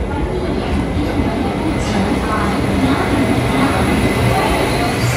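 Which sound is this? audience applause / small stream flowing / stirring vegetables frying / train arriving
train arriving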